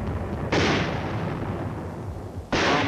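Heavy 4.2-inch mortar shells pound Hill 1179 in Korea: two loud, booming detonations about two seconds apart, each trailing into a rumbling decay.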